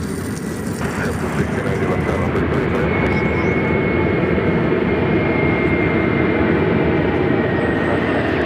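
A JetBlue Airbus A220-300 arriving at LAX from Fort Lauderdale produces a loud, sustained jet roar with a rising engine whine, heard close and steady throughout.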